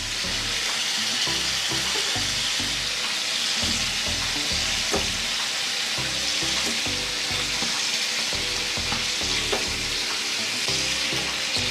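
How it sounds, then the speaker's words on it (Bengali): Eggplant pieces fry in a hot pan for a fish and eggplant curry, giving a steady, loud sizzle with occasional stirring scrapes and no talk. "এখন আমরা এর মধ্যে আস্তে আস্তে বেগুনগুলো দিয়ে দিব।"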